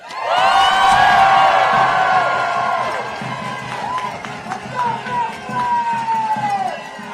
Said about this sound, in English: make a huge cheer for our Franklin teachers